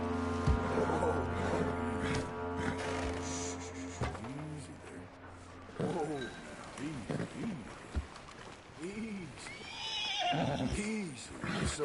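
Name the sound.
horse neighing, from a video game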